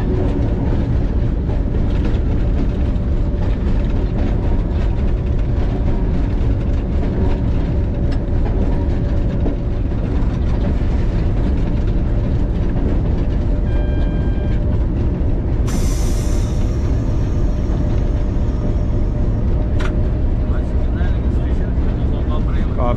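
Millat Express train approaching Bhalwal railway station, heard from the cab: a loud, steady rumble and rattle of wheels on track throughout, with a brief high hiss and a sharp click late on.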